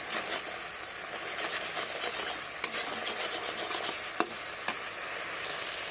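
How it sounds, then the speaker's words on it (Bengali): A spice mixture stirred in oil in a pan, a steady sizzle and frying hiss with occasional sharp scraping clicks from the spoon, moderately close and without speech. "দিয়ে এইভাবে নাড়তে থাকবো আমি যতক্ষণ না তেলটা আমার ছেড়ে দেয়।"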